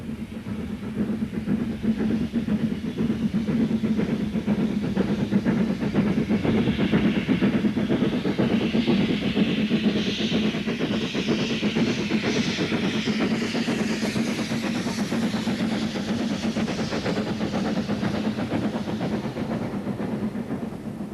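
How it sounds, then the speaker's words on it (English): A steam locomotive with a Midland standard boiler works a British Rail main line, giving a steady, loud rolling rumble with rhythmic wheel clatter throughout and no voices. "It's another locomotive based on the Midland Trust line at Butterley, but is also passed to work on British Rail main lines, as seen here."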